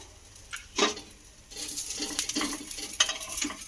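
Rice-based pieces are lowered into hot oil, bursting into loud, crackling sizzles that surge as each portion goes in, with light utensil scrapes in between.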